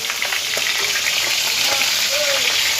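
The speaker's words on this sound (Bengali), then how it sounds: "বড় মামা কিন্তু মাছ ভাজাভাজি করছে" Fish frying in a pan at a family picnic cookout, a loud, dense, continuous sizzle with faint scraping, no talk.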